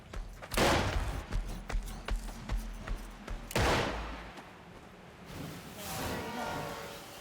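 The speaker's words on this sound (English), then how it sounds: "He's shooting me." Gunfire in the horror game Devour: close, heavy blasts with crackling rapid shots between them, then a quieter stretch with a softer, fading noise toward the end.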